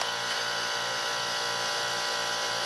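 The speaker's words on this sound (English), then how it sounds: "Just sounds like a refrigerator compressor running." A geothermal heated floor heating system runs with a steady, dense mechanical hum and hiss like a refrigerator compressor, loud and unchanging throughout with no breaks.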